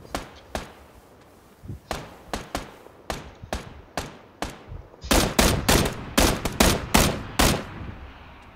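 Gunfire in the video game PUBG, a run of loud sharp shots at first spaced out, then a faster dense burst of louder cracks near the end.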